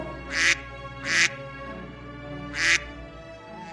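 Cartoon ducks in a Bengali village moral story give three clear, separate quacks spaced about a second apart, loud and close with no talking.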